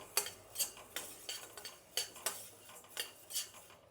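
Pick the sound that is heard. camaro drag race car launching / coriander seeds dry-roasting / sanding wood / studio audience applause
coriander seeds dry-roasting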